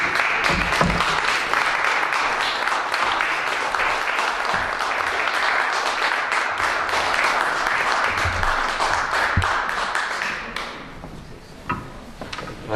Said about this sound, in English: I can see you applauding for an introduction like that